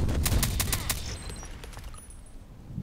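A suppressed VSS Vintorez rifle fires in a video game: a quick burst of about six muffled, snappy shots in the first second, then fainter, sparser reports fading into quiet.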